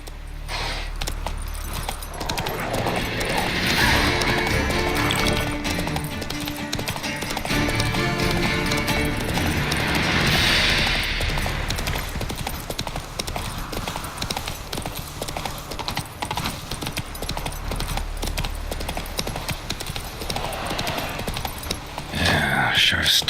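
Roach, a horse in The Witcher 3 video game, galloping with a dense, continuous drumming of hooves over swelling game music and ambience for the whole stretch.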